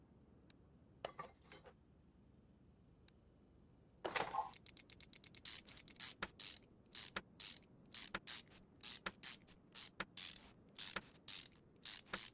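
Ratchet wrench removing bolts from a Jaguar V12 engine in Car Mechanic Simulator 2021, heard as rapid bursts of sharp, close clicking, sparse at first, then dense repeated runs with short pauses between them.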